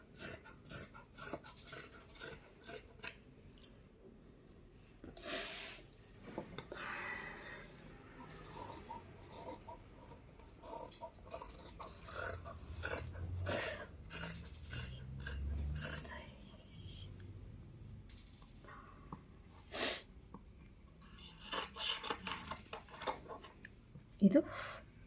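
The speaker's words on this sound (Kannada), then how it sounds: "ಈಗ ಕಟಿಂಗ್ ಮಾಡೋದು ತೋರಿಸ್ತೀನಿ" Scissors cut dress fabric along a marked shape, giving intermittent crisp snips and scraping crunches scattered throughout while a person talks over them.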